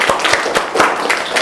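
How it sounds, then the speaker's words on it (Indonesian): A university classroom audience claps for a student named Reva after she works a complex-number problem. The claps come close and loud in a few uneven bursts that fade quickly, with no talking over them. "kita kasih tepuk tangan dulu ke Reva"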